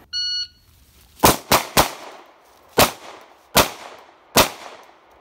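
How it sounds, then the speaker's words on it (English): Six sharp shots from a Glock 19 Gen 5 pistol come fast and loud in an uneven string, each with a short ringing decay, after a brief electronic beep at the start. "we're getting that volley into a target really quick for fighting drills"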